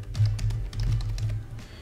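Keys on a computer keyboard tap in quick, uneven clusters, close and fairly quiet over a low background hum.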